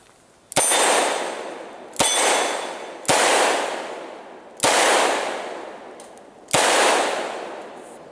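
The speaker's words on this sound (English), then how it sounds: "We're gonna go for double action, and we're probably 8 or 9 meters max from this 12-inch plate right here." .44 Special Charter Arms Bulldog revolver fired double action at a 12-inch steel plate from about 8 or 9 meters: five sharp, loud shots at uneven intervals, each with a ringing metallic clang that decays slowly.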